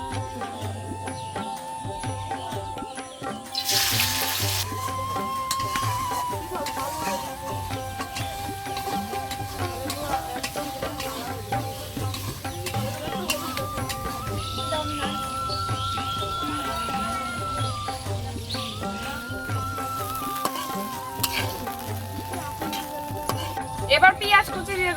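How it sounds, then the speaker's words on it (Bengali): Shrimp frying in oil in a pan, a steady close sizzle running throughout with stirring and scraping, a low rhythmic hum and occasional clatter in the background. "এবার চিংড়ি মাছগুলো ভেজে নেব।"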